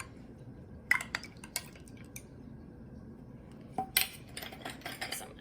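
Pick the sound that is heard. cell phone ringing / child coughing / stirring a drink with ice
stirring a drink with ice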